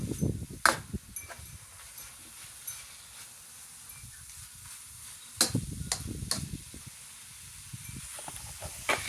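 Broccoli and shrimp stir fry sizzling in a pan, a soft continuous hiss with scattered clacks of stirring and louder bursts of tossing near the start and around the middle to end.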